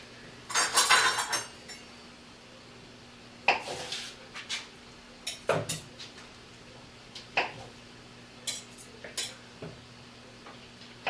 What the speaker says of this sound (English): I'm going to slice up some butter so that we can cut it into the flour and make it in smaller chunks